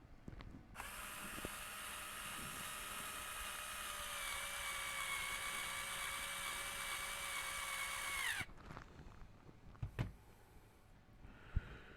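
A power screwdriver whines steadily for about eight seconds while removing the upper link screw on a Traxxas TRX4 radio-control truck, close and loud, then cuts off abruptly, followed by a few small clicks and taps.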